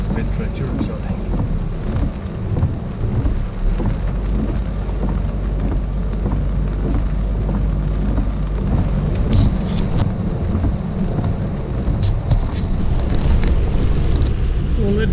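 Heavy rain pounds a truck cab while driving slowly over Cunningham Gap in a storm, a dense constant roar with low engine and wind rumble beneath and faint sharp cracks late on, steady and loud throughout.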